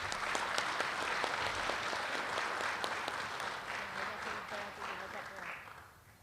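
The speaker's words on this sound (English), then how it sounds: "Let's give this group a round of applause" A school audience gives a sustained round of applause for students at a student recognition ceremony, dense clapping filling the room for several seconds before tapering off at the end.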